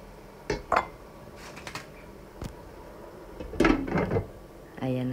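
A metal lid clanks onto a cooking pot of simmering ground-meat kaldereta, with a few sharp clatters of cookware and a ringing knock near the end, close by and fairly loud against a quiet kitchen background.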